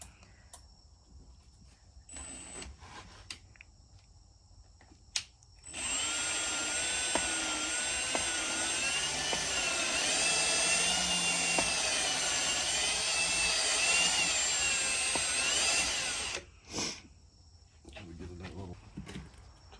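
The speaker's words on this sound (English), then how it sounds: "Old professional lapping tool. Yeah, the Milwaukee lapping tool." A Milwaukee lapping tool spins against an engine valve during a rebuild, a steady high whirring drone that runs for about ten seconds with quiet gaps and brief bursts before and after.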